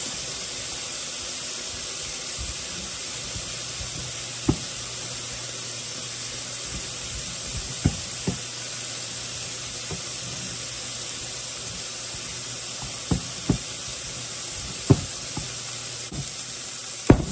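Ground beef browning in a pan on a home stovetop, a steady low sizzle with occasional sharp clicks and scrapes of a spoon stirring, no talking.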